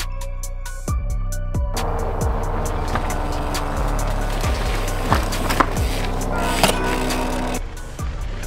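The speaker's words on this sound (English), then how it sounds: "Did you guys hear that pedal strike?" Trek Fuel EX 8 mountain bike climbing a trail, with steady rolling drivetrain and tire noise broken by several sharp knocking clicks, one of them a pedal striking the ground close by.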